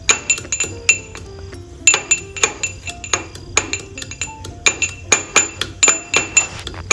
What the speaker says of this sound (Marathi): लसूण आणि आले मी आता खलबत्त्यामध्ये चांगले बारीक काढून घेणार आहे